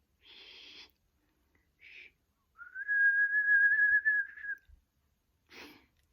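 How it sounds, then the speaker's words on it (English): A 1960s kettle whistle sound effect gives a single steady, shrill tone lasting about two seconds, sounding alone and fairly clear between short breathy noises before and after. "Apparently his throbbing whistle is a"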